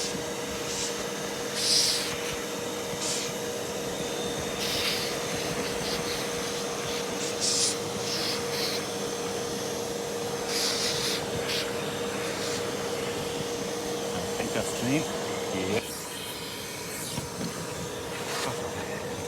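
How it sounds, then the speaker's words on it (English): A vacuum drones steadily as it sucks up a swarm of bees during a bee removal, with faint scattered ticks and a small clunk near the end, and nobody speaking. "I've always got this fear of sucking a big clump of them and them all hanging onto each other and ending up maybe causing a blockage in the vacuum"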